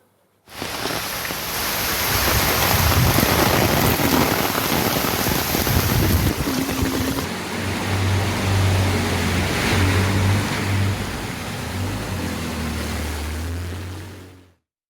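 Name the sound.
heavy rain in Chennai during Cyclone Fengal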